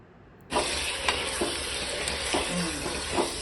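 Chicken drops into hot oil with browned onions, bay leaf and fennel, setting off a sudden loud sizzle that holds steady, broken by a few light stirring clicks.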